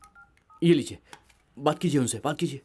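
A few soft touch-tone beeps from a phone keypad, then people begin talking loudly over them.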